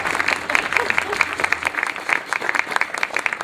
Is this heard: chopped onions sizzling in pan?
no